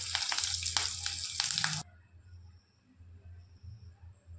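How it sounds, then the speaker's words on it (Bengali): Slit green chilies and panch phoron hit hot oil for a paneer dish, giving a loud, close crackling sizzle that cuts off abruptly, leaving a faint low hum. "এবার ওই একই তেলের মধ্যে আমি এখানে দুটো চেরা কাঁচা লঙ্কা দিয়ে দিচ্ছি"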